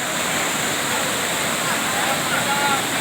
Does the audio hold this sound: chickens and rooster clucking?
no